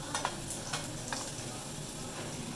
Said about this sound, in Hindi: इसके लिए जो किशमिश मैंने भिगोई थी ना उसको फ्राई किया जाता है